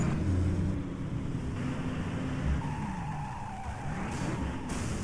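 A car drifting and skidding in the Driver Parallel Lines video game, an engine drone with a rising tire squeal, steady and loud without talk.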